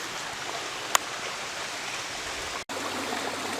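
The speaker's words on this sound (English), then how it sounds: "Here's the waterfall." Constant roaring rush of a waterfall, broad and steady, with a brief click early on and a momentary dropout near the end.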